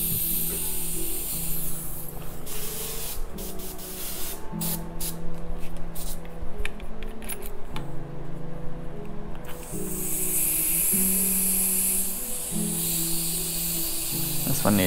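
An airbrush sprays paint in bursts for T-shirt and graffiti work, a steady close hiss that starts and stops over a low background hum.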